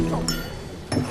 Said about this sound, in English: Prince Philip uttered blast as his glass dropped to the floor at a state banquet in 2003